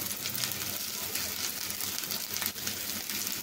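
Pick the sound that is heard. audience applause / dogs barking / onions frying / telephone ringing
onions frying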